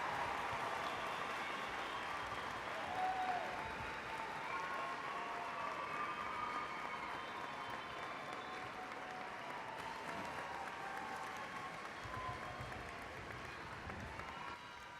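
Broad, continuous applause for December College of Arts and Sciences graduates at a university commencement, a large crowd clapping in a dense, even wash heard from a distance and holding steady for about fifteen seconds.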